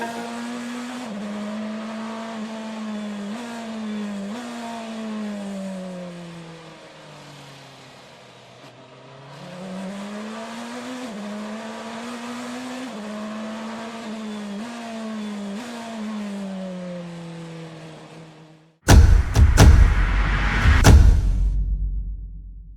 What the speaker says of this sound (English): Let's hear the noise of the 4L DOHC DTM V8 biturbo engine, called the P66/3, from the BMW M from inside the cockpit